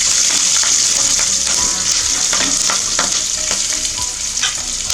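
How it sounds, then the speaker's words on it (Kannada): Curry leaves, dried red chillies and green chillies fry in a hot pan for coconut rice, giving a loud, steady sizzle with stirring scrapes throughout and no talking. "ಕರಿಬೇವು, ಮೆಣಸಿನ್ಕಾಯಿ, ಹಸಿಮೆಣಸಿನ್ಕಾಯಿ ಎಲ್ಲ ಆ್ಯಡ್ ಮಾಡ್ತಾ ಇದ್ದೀನಿ. ಜಸ್ಟ್ ಫ್ರೈ ಮಾಡೋಣ."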